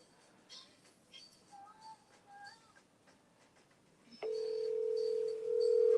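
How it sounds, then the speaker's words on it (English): A telephone dials with short tone beeps under quiet background talk, then a steady loud ringback tone sounds, rising slightly near the end. "Can you hear this ringing?"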